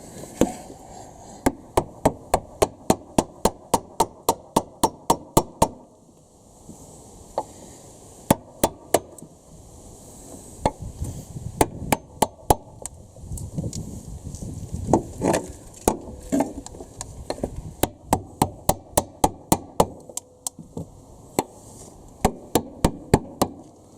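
Rapid bursts of sharp hammer strikes ring out, metallic and close, in quick runs separated by short pauses, repeating throughout, while seating a B18C4 engine into a Honda Civic EF.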